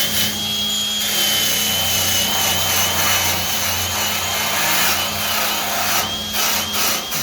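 An angle grinder runs continuously, grinding through welds on Ford F250 sheet metal, a loud steady high whine with a faint pitch wobble as it bites into the metal, with no voices.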